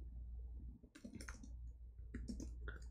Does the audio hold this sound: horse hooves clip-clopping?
no